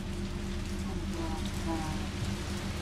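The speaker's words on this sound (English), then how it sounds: "Dang, that rain is no How joke." Steady rain falling outside a one-bedroom apartment window, a constant wash of hiss and patter with no gaps, heard from indoors at moderate level.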